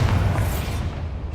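A spell cast in Hogwarts Legacy bursts into a fiery explosion, a loud, close, roaring boom that rumbles heavily and fades slowly over a second or so, with no talk over it.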